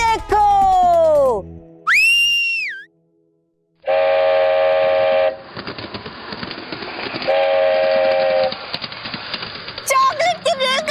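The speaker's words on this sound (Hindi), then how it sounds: "और इन पटरियों पर चॉकलेट की रेलगाड़ी भी चलती है।" A magical chocolate train running on chocolate tracks in a children's fantasy TV show gives sweeping whistle toots and loud horn blasts over a rumbling, clattering rolling sound, with a brief silence and voices mixed in.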